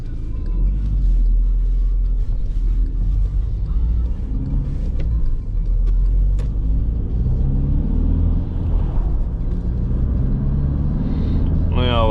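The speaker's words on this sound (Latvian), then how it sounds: "Braucot arī caur šādu bedrainu ceļu, nedzird nevienu lieku skaņu rītošajā daļā" A 2-litre Volkswagen Golf 6 rolls over a bumpy, pothole-filled road, with a steady deep rumble of engine and tyres filling the cabin throughout and no distinct knocks standing out.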